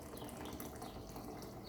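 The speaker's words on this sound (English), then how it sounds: "And then add 400 millilitres of boiled water." Boiled water is poured onto broken-up jelly in a measuring jug, a continuous splashing trickle heard up close and steady throughout.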